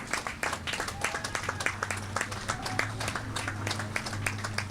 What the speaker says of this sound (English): And you can hear the applause here.